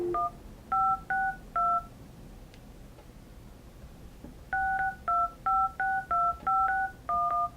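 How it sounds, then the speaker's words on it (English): Dial tone and DTMF keypad tones from a Grandstream GXV3275 Android desk phone on speakerphone: a brief steady tone, then two runs of crisp, evenly spaced dialing beeps separated by a pause, with no talk. "You hear the dial tone."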